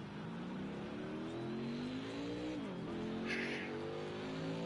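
A NASCAR Cup stock car in Project CARS 2 at Indianapolis slides out on a curve, its engine droning steadily, the pitch rising and then dipping, with a brief tire squeal near the end.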